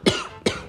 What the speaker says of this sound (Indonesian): udah berapa lama kau batuk?